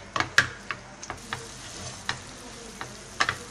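Ginger garlic paste frying in a pan, a soft steady sizzle with a spoon scraping and tapping the pan several times at uneven intervals, close and fairly quiet.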